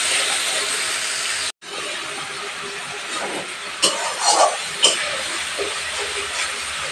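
Onion and chili masala paste fries on medium heat for a pabda fish curry, a steady broadband sizzle that cuts out briefly, then resumes with a few light clinks of a spatula against the pan.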